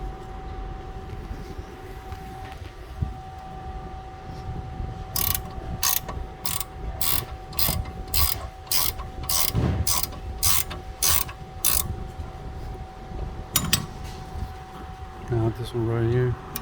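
Ratchet tightening brake caliper bolts on a Hyundai Elantra during a brake pad and rotor job: a quick run of about a dozen sharp, evenly spaced clicks, close and loud, with a short second burst later and a voice talking in the background.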